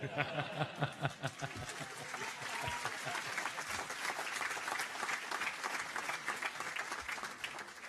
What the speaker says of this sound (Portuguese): eu acho que as palmas são dos arcos.